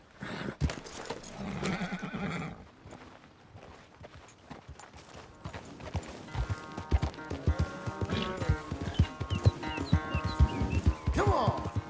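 A horse's hooves clip-clop in Red Dead Redemption 2, an uneven run of close hoof strikes that grows busier toward the end, with jingling tack and faint background sounds.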